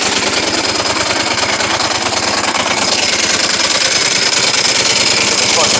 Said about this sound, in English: Spinning the gas off. Sounds a little different when you kick the clutch in too.